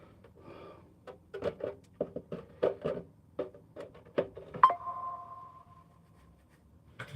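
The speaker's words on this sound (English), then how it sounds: "Something beeped." An RC car gives a single electronic beep, a steady tone of about a second, after a run of soft clicks and knocks as its body is handled.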